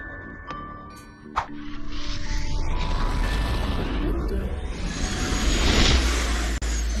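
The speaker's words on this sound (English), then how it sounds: "Helicopter, helicopter." A helicopter builds from mechanical clicks and creaks into a loud, sustained rotor and engine drone that swells near the end, with brief sharp clatters early on.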